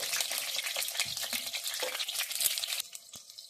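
Brinjal pieces fry in hot mustard oil in a kadai, giving a steady close crackling sizzle that drops to a quieter fizz near the end, with no talking.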